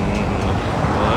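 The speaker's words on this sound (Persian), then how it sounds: "اینجا سنگ فرش، صدا ماشینا زیادتر از صدای منه." Car traffic rolls over a cobblestone street near the seaside in Georgia, a dense, steady roar close by, with a voice talking over it.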